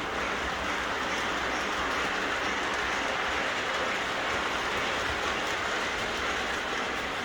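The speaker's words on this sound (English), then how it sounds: "There's the train going around, coming out of the tunnel." Continuous, dense rattling rumble of an O gauge model train running along its track and out of a tunnel, steady and close without pauses.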